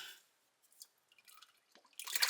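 Engine oil from a 2013 Toyota Tundra drips and splatters during an oil change, a few scattered close drips ending in a louder spattering gush.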